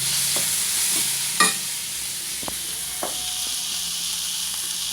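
Sliced onions sauté with salt in a pan for soya chunk cutlets, giving a steady bright sizzle with a few scraping stirs and clinks of a utensil close by.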